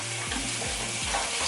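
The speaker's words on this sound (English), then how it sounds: "So I'm gonna wet my beauty blender a little bit." A makeup beauty blender sponge being wetted under water, giving a steady, even hiss that runs unbroken from start to finish at close range, with no voices.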